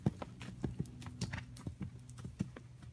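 Horse hooves canter in a steady, rhythmic clip-clop on an arena surface during a riding lesson, close and distinct with regular three-beat strikes and no talking.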